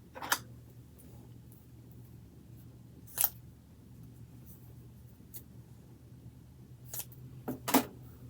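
Die-cut paper flowers being trimmed, with several crisp, isolated scissor snips spaced irregularly, close by over a quiet background, with no talking.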